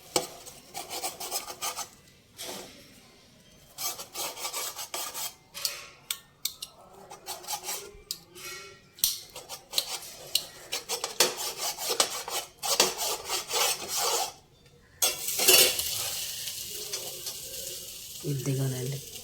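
A knife rasps and scrapes through a homemade breakfast pizza on a board, in repeated rough cutting strokes with brief pauses between them, close up and fairly quiet.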